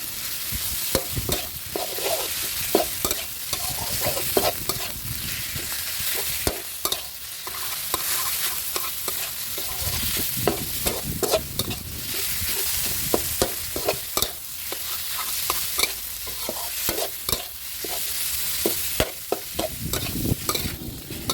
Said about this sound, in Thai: เสร็จแล้วก็ใส่หมูสับลงไปผัดรวมกันครับ